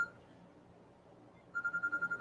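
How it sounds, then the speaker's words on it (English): A phone rings in the background in a quiet room, its electronic ring starting partway through as a rapid train of repeated tone pulses, fairly faint and alone. "that noise you hear in the background is my other phone ringing"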